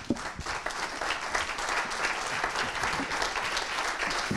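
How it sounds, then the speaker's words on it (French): A seated audience at a foundation panel session applauds warmly, with continuous, even clapping filling the room and a few sharper claps standing out near the start. "Donc on peut vous applaudir"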